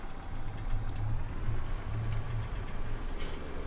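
A farm tractor engine runs in Farming Simulator 17 on the County Line map, a steady low droning rumble that holds at a constant level throughout, close and continuous with no talking.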